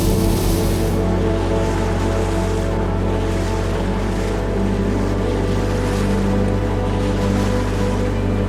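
A motorboat pushes through strong tidal currents off Portsmouth heading toward the Atlantic, a loud, steady engine drone blended with rushing water and hull wash, continuous and close, with no voices.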